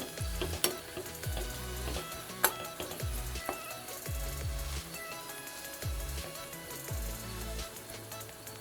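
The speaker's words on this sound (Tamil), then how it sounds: "கொஞ்சம் வதங்கட்டும். வெங்காயம் வதங்கிடுச்சு." Onion and fennel seeds sauté in a pan for a tiger prawn gravy, giving a steady sizzle with repeated low scraping strokes of a spoon stirring at a regular rhythm, close and alone with no voices.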